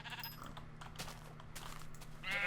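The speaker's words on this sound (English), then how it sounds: "I might as well kill some sheep." Sheep in the Minecraft video game bleat faintly, with short wavering calls over a quiet background hum and a louder bleat near the end.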